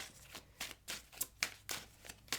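A tarot card deck being shuffled by hand, with a series of crisp riffling bursts coming in a regular rhythm about every quarter second, close and fairly quiet, with no talking.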